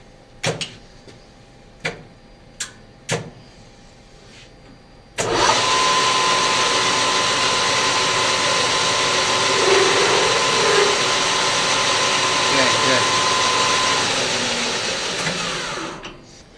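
A few sharp clicks, then a drill press motor switches on and runs with a steady loud whine for about ten seconds, touching up a hole in a screwdriver blank, before winding down.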